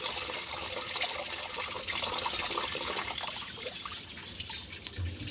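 Tap water runs in a steady stream, filling a container, a continuous splashing trickle heard alone at moderate volume.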